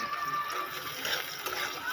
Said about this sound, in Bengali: পেঁয়াজটা একটু ভালোভাবেই নাড়াচাড়া করে দিতে হবে।